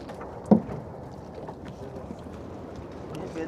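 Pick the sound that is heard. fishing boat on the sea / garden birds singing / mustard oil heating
fishing boat on the sea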